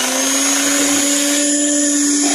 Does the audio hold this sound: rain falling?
no